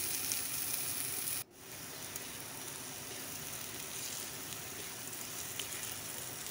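Brinjal goes into frying masala for Hyderabadi baghare baingan, a bright steady sizzle that briefly drops as the pieces land, then settles into a continuous hiss.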